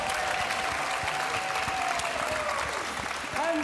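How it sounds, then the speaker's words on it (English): Studio audience at a Gran Turismo World Series esports event in Los Angeles claps steadily in dense, even applause, fairly loud throughout, with cheering and voices mixed in underneath. "Let's give him a round of applause, please."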